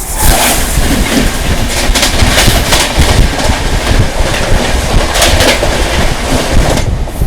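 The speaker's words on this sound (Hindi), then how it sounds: "कालका शताब्दी एक्सप्रेस" Kalka Shatabdi Express thundering past at close range, a loud, steady rumble of wheels and rail clatter lasting several seconds with no voices over it.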